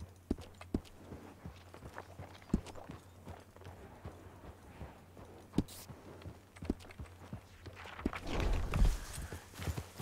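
A horse in a Western role-play video game clip-clops along in a steady, moderately close rhythm of hoof strikes, with a rushing noise building near the end.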